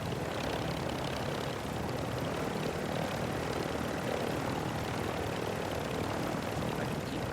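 A heavy exfil chopper in the video game DMZ, a steady, dense rotor and engine drone that holds at a constant level with no voices over it.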